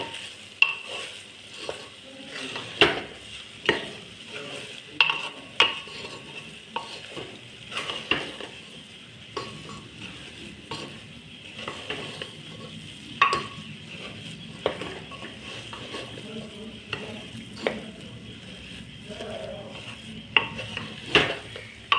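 Raisins and chopped nuts sizzle in hot ghee for a sweet dalia, a continuous close crackle punctuated by regular scraping and tapping of a spoon on the pan, lasting throughout without any voices.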